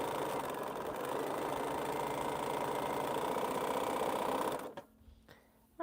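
A sewing machine stitches string quilt blocks with a steady, close, rapid whirring hum for several seconds, then stops abruptly, leaving near-silence with a small click at the end.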